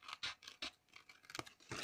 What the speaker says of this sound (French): Je vais faire au ciseau, ça ira plus vite.